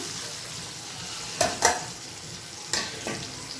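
Green mango pieces dropping into a pan of frying tomato, with a few short scrapes and sizzling bursts over a steady low hiss, close and alone.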